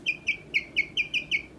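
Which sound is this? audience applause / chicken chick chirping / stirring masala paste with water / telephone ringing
chicken chick chirping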